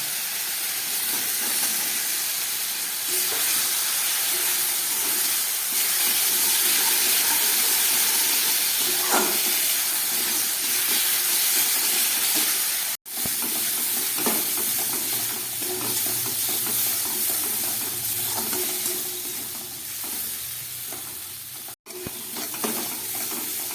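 Fried potatoes added to a masala keep up a loud, continuous hiss and sizzle, with occasional stirring scrapes throughout.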